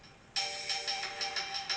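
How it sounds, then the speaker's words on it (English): A mobile phone rings in a leatherworking workshop, a bright electronic tone pulsing in a regular repeating pattern, moderately loud and alone after a quiet start. "My phone's ringing."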